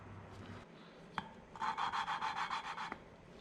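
Valve lapping with gritty compound during a 2005 Honda TRX450R engine rebuild, heard as a close rhythmic scraping of about a dozen even back-and-forth strokes, preceded by a sharp tap.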